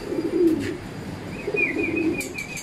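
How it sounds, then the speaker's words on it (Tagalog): Racing pigeons returning from a training flight coo softly in low, rolling murmurs, with a few faint chirps and brief wing sounds nearby and no talk. "Ito na yung mga dumating, kalapatids."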